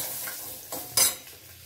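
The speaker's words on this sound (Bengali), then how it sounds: "আর এই তেলের মধ্যে আমি সামান্য হলুদ দিয়ে দিলাম পরিমাণ মতো।" Chili pieces and turmeric fry in hot oil in a pan, a soft close sizzle with a few quick stirring scrapes and one sharper clink.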